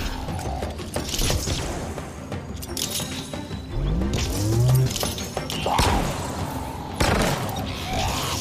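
Grenades burst in a video game played on Legendary difficulty, a couple of heavy booms landing late among constant clicking, clattering mechanical game effects and gunfire-like noise.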